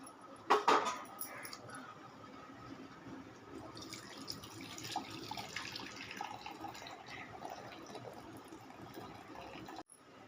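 Cooking water poured off boiled chana dal (kadalai paruppu) into a separate vessel, a steady close splashing pour running about ten seconds with a louder spill at the start, no talking.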